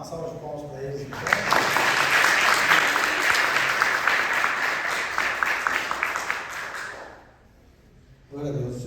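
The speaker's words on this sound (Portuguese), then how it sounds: "Uma salva de palmas para eles." A church congregation bursts into loud, sustained applause that swells, holds for several seconds, then fades, with a voice speaking before and after.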